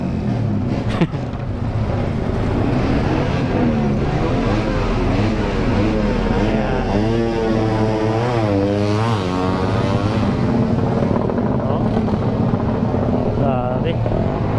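Loud motorcycle engines roar at a drag race, a dense continuous drone with rising and falling revving sweeps, close and steady throughout.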